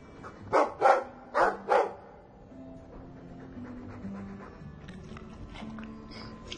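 A Mabari war dog in Dragon Age 2 lets out four loud, evenly spaced barks up close, followed by softer panting and growling over low game ambience.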